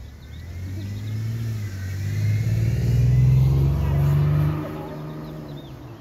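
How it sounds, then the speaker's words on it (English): A car passes close by near a wiffleball game, its engine rumble swelling gradually to a loud peak and then fading as it moves away, with no voices over it. "Oh, we might have a car."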